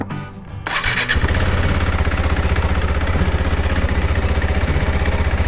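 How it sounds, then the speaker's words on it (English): A KTM 390 Adventure motorcycle with an aftermarket air filter starts up, then its single-cylinder engine revs loud and close in a steady, throbbing roar with no voices. "I'm going to give it the throttle."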